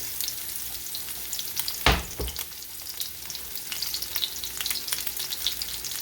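King fish steaks frying in a pot of oil, a steady close hiss and crackle of bubbling oil with one brief louder clatter near the start.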